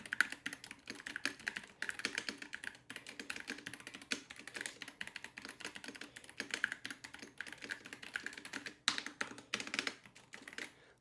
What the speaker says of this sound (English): So let's do that keyboard test.